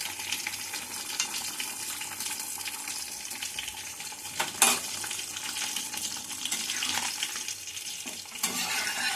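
Ghee goes into a pan of mutton-style jackfruit curry and gets stirred, giving a soft steady sizzle with occasional sharper scrapes and clinks of the spoon, close up and without talk.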